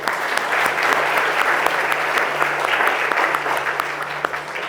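Audience applause at a seminar on rebuilding an Audi 2.0L engine, honoring a veteran technician; a full, steady burst of clapping from a room of people that carries on for several seconds.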